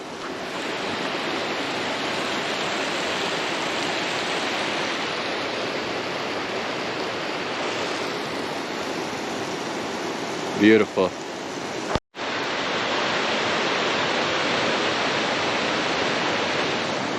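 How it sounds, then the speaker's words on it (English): A mountain creek flowing beside a remote Rocky Mountain cabin, a steady broadband rush of water filling the whole clip, with a brief spoken remark and a short interruption partway through. "there's a creek on this side too, which is awesome"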